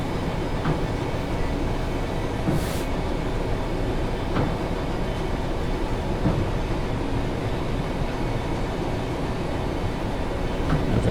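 Rail Head Treatment train running on the Birmingham Cross City line, heard from the cab: a continuous steady rumble and rattle of wheels on track with occasional faint clicks, no speech.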